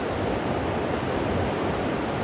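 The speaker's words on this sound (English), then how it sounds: "Water rushes downstream." Water rushes downstream outdoors as a steady, broadband roar that stays dense and even from start to finish, with no talking.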